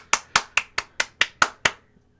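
Eight sharp, evenly spaced hand claps ring out close and loud, a steady rhythmic clapping for Pat at the end of a performance, with no talking over it.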